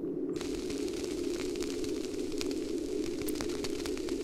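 A campfire crackles and snaps in the video game Das Schwarze Auge: Memoria. Steady fire noise carries a low hum, with scattered sharp pops throughout.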